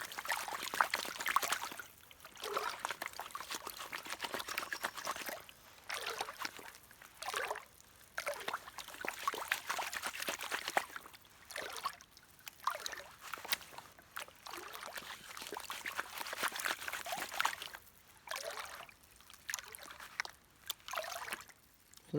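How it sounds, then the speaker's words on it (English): Gold pan washed down in a stream while high banking and crevicing, irregular sloshing and trickling water pulses repeating every few seconds at close range. "So that's that pan down."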